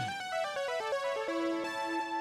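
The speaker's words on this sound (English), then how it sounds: "It's got a nice like chorusy effect, and it's just literally doubling the guitar." Chorus-effect synth doubling a funk guitar melody, a quick run of bright plucked notes stepping downward and settling into a held tone, smooth and close with no talking.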